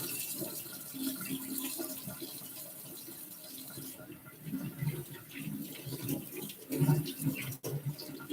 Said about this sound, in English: Another hand wash because I'm careful